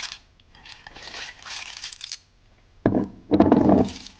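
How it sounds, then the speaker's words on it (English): Freshly cleaned mechanical keyboard keycaps pour onto a towel as a soft, close clatter of many small plastic pieces, arriving in two bursts with a short gap between them. "you want to take a towel and pour your clean keys inside"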